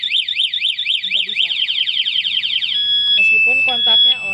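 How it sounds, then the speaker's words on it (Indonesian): An Alarm Nine A1 security alarm on a 2021 Honda Beat motorcycle sounds loud and close, a rapidly warbling siren that shifts into steady beeping tones while someone talks over it. "Alarmnya bunyi sama starternya gak mau nyala."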